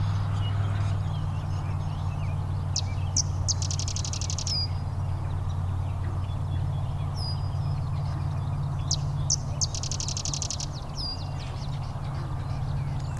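A sedge wren sings outdoors, giving two fairly faint songs of sharp chips followed by a rapid, dry trill, over a constant low rumble of background traffic noise.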